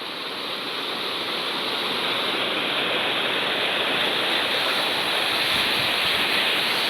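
Floodwater of the Changawadi river rushing past Balvad village in Gir Gadhada taluka, a steady, loud, broadband roar close by, continuous and unbroken with no voices.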